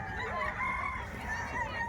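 A rooster at a Filipino poultry market crows in one drawn-out, wavering call, close and clear over low background murmur.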